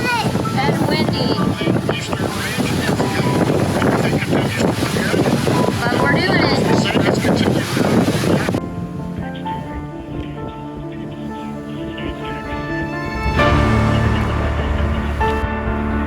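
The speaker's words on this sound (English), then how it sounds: "It's really bumpy and windy." Strong wind buffeting a microphone aboard a boat underway at sea, loud roaring gusts at first, then easing to a steadier engine and water rumble; a person speaks briefly.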